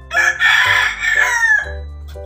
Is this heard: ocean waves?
no